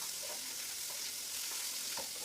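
Small sardines (mathi) fry in a pan, a continuous faint high sizzle with soft occasional pops, steady and unbroken throughout.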